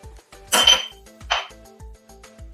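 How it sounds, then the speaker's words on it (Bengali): Chopped ginger, garlic and chili are moved into a small bowl, with a few close clinks and knocks of a utensil against the dishes over a low repeating background hum. "এবার আমি এগুলোকে একইভাবে আবার ছোটো বাটিতে তুলে নেব"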